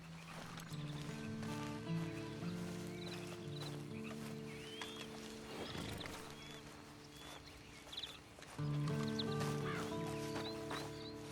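Horse hooves clip-clop at a steady walking pace in the Red Dead Redemption 2 Online video game, set against a continuous backdrop of game music and ambient tones. No one speaks.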